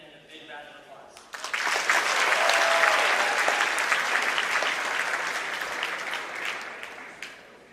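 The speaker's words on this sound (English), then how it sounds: "Please join me in giving him a big round of applause." An audience at a youth Jain convention opening ceremony breaks into loud, sustained applause for the JAINA President, swelling quickly and then slowly fading after a brief spoken introduction.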